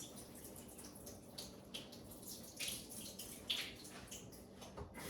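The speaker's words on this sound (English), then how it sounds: "Filling it up again." Fresh water running from a sink tap into a glass sprouting jar full of seeds, a steady close splashing and trickling hiss with small surges throughout, no voices.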